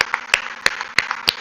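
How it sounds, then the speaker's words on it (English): Sparse, evenly spaced claps ring out at a launch success celebration for the Skyroot rocket team, a few sharp hits about every third of a second over a quiet hum. "I think you deserve a much, much bigger round of applause than anybody else."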